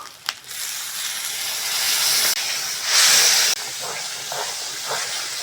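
Water poured into spice masala frying in a pan for a cauliflower curry, giving a loud steady hiss with a louder steamy burst in the middle, no voices.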